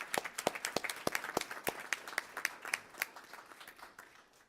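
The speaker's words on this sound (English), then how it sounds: "Please join me in recognizing and giving him a round of applause." An audience at a school board meeting applauds an honoree, a brisk round of clapping that rises and then tapers off.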